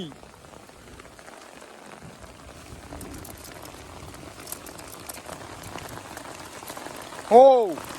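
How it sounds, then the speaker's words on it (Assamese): Heavy rain drums steadily on a tent at an overnight camp during a thunderstorm. A dense, even patter runs throughout, and a brief voiced sound rises near the end. "উধাই মুধাই বৰষুণ দিছে মানে"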